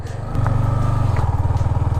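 Motorcycle engine idling after a self-start and being shifted into gear by a learner, a steady low throbbing pulse that grows fuller after the first moment, running alone and close.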